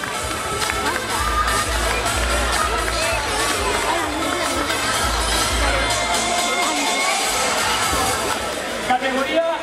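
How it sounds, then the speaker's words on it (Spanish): A crowd cheers and claps at a cross-country race awards ceremony in Falces, with children shouting over steady, loud applause and bursts of low thumping. "Fuerte aplauso."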